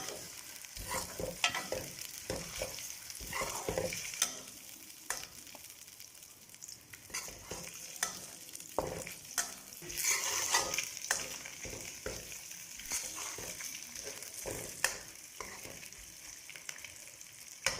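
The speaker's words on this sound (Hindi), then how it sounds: "चिकन डालने के बाद हमने इसको अच्छे तरीके से इसमें फ्राई कर लेना है" Boiled chicken frying with ginger and garlic in a pan, a steady crackling sizzle broken by repeated scraping stirs and clinks of a spoon, fairly close and continuous.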